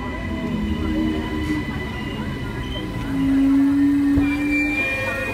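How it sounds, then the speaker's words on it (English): A train rolls into a station with a steady low rumble and a long, high wheel squeal partway through, amid background station noise. "Wait, your train."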